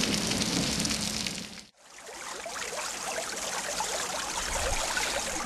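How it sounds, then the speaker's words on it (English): Steady rain falls in a dense, even hiss, broken by a brief near-silent gap before the downpour resumes at full strength. "So basically, precipitation is rain"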